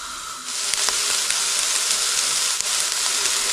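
Onions and garlic cooking in a hot pan for Yemeni chicken saltah with hulba, a steady broadband sizzle that starts abruptly after a brief quiet moment and holds loud and even, with faint clinks.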